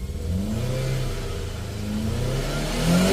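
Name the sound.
car engine being revved to check smoke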